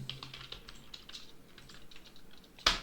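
Rapid keystrokes on a computer keyboard tap out in an uneven stream, fairly close and quiet, ending in one sharper, louder key press.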